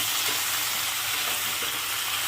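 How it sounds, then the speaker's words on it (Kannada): Vegetables for sambar, including tomato and brinjal, fry in a pan with a steady, loud, hissing sizzle that runs unbroken and even throughout. "ಈಗ ಇದನ್ನು ಸ್ವಲ್ಪ ಫ್ರೈ ಮಾಡ್ಕೊಳ್ಳೋಣ."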